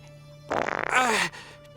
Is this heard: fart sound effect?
yes